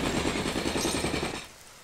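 A jackhammer weapon in the video game ELEX fires in a rapid, loud rattling burst for over a second, then cuts off into quiet.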